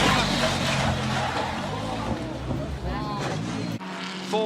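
Bentley race car driven by Dean Canto at Mount Panorama, its engine roaring loud and continuous at close range, with talk over the top and a sharp change near the end as the car passes.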